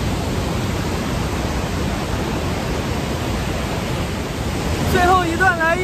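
Rushing water from the left section of the Rhine Falls fills the air with a constant hissing roar, and near the end a voice rises briefly above the torrent.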